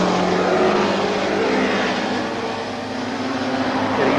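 Racing motorcycles roar continuously through a Castrol 6 Hour endurance race, a loud, sustained engine drone holding steady with slight rises and falls in pitch, no voices heard.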